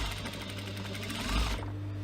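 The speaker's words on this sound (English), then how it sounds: "Actually sew it on the fabric though, Ali." A sewing machine stitching fabric for a cosmetic pouch runs in a steady, fast, close mechanical chatter, with a brief change in pitch toward the end.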